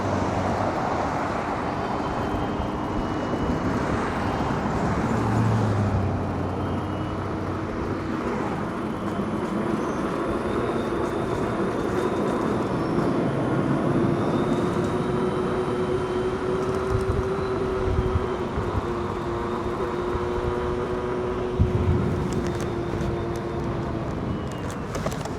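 Riding the Oryx for the first time makes a steady, loud rush of wind and rolling noise with a faint motor whine that holds at an even level throughout.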